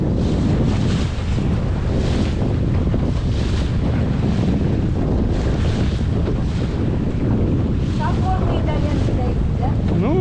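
Strong wind and choppy waves surround a Laguna-Kombi+ centreboard sailing dinghy in a bay, with loud steady buffeting on the microphone, rhythmic water slaps and splashes against the hull, and brief voices near the end.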